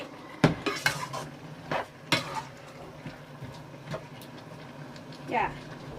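Cookware and utensils clatter in a new wok during stir-frying, with sharp metallic clanks and scraping strokes at irregular intervals over a low background hum.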